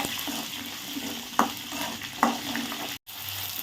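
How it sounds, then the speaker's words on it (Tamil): Onions sautéing with ginger and garlic in a pan for fish curry, a continuous sizzle broken by two distinct scraping clacks of a stirring spoon, then a brief cut to silence. "வெங்காயம் வந்து ஒரு அரை வேக்காடு வதங்கட்டும் அது வரைக்கும் வதக்கிக்கலாம்"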